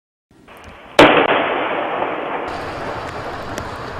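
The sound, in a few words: mysterious booms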